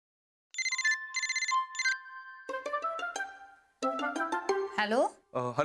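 A phone rings late at night in a Marathi TV drama scene: a few short, bright ringtone bursts play clearly before voices begin talking over the ringing.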